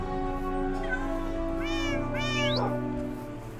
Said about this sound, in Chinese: 小叶，你是小雨去世之后我第一个找回来的猫咪